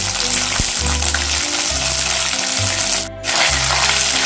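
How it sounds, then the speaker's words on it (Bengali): Ginger and Kashmiri chili paste sizzle in a hot frying pan, with a steady close frying hiss, a few low clatters of stirring, and one brief dip midway. "এবারে এর মধ্যে দিয়ে দিচ্ছি দু চামচ আদা কাশ্মীরি লঙ্কা পেস্ট দিয়ে দিচ্ছি"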